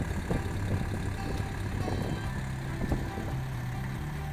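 Soil King rotary tiller from India working through soil, with a steady engine drone and low mechanical hum, continuous at moderate loudness, with faint thuds mixed in.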